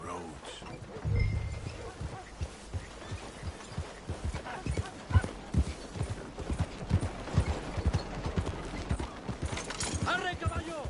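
Horse hooves clip-clopping at a steady gallop in Red Dead Redemption 2, a rapid rhythmic beat carrying on throughout, with a voice and game sounds layered over it.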